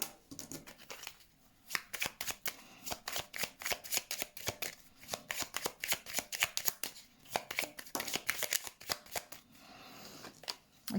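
Tarot cards being shuffled for a reading, a rapid run of close, crisp riffling flutters repeated in quick bursts, fairly quiet and with no talk.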